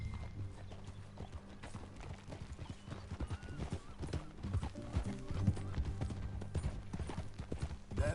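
Horse hooves clip-clopping in the video game Red Dead Redemption 2, a steady rhythmic trot of close hoof falls continuing throughout, with faint voices and background game sound underneath.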